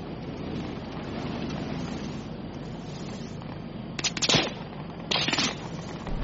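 Gunfire in a military shooter video game, bursts of rapid shots cutting through a steady rumbling battlefield background, two sharp clusters near the end, moderately loud.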